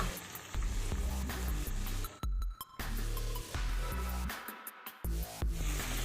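A spice paste for mung dal and pointed gourd, added after ginger, sizzles and fries steadily in a pan over medium heat, with a brief dip partway through and then a loud, continuous crackle.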